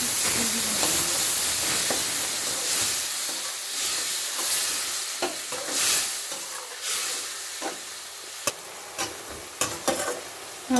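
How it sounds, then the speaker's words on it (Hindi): Tomato puree sizzling in a pan for broccoli sabzi, a bright hissing fry with repeated quick taps and scrapes of a spoon stirring, close and continuous without voices. "हम इसमें टमाटो की प्यूरी डालेंगे"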